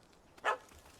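A single short dog bark in the game The Witcher 3, from a puppy chasing a cat, heard once at moderate distance against quiet ambience.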